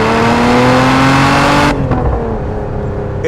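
A Lotus Emira with a supercharged V6 pulls away from a stop, its engine roaring loudly and rising in pitch before cutting off sharply as the driver lifts, leaving a quieter fading rumble.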